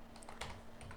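A few quick, close keystrokes on a computer keyboard as a search is typed, sharp clicks over a faint room hum with no talking.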